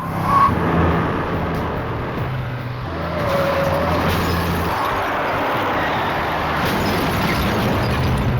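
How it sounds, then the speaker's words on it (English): A car roars at speed toward a house at midnight, its engine a loud, continuous rushing drone that holds steady throughout with no gaps. "he heard the sound of a car screaming towards his house"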